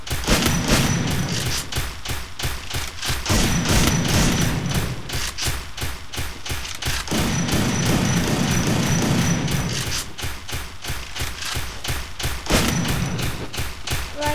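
Rapid automatic gunfire in a shooter video game, dense continuous bursts of sharp shots with thudding impacts, loud and close, running for the whole stretch.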